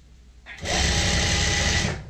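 A sewing machine stitches a salwar seam in one steady, close whirring run of about a second and a half, starting abruptly and stopping cleanly.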